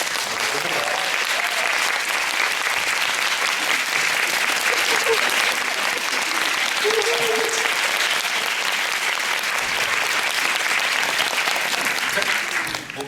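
An audience at a post-show talk for the musical Rachmaninoff applauds steadily and loudly for about thirteen seconds, welcoming the actor playing Rachmaninoff and the director onto the stage, with a dense, even wash of clapping throughout.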